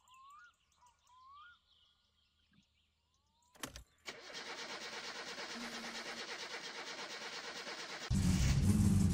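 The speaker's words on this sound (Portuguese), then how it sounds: "Vamos ver se o carro vai ligar." A car engine cranks and starts in the game My Summer Car after the choke is pulled, a sharp click followed by steady loud idling that swells louder near the end, with faint bird calls before it.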